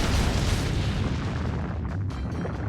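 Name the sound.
magical energy cannon blast in Fate/Grand Order video game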